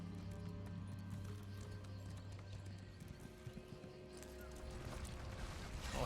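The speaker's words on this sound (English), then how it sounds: "Look at that horse." Rhythmic hoof clip-clops of a horse galloping fast in the video game Elder Scrolls Online, with a steady hum underneath and a brief neigh-like sound near the end.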